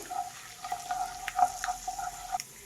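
Chana dal and urad dal fry in a small amount of oil, making a quiet, close crackling sizzle broken by uneven pops and light stirring sounds.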